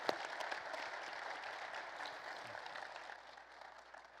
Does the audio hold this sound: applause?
yes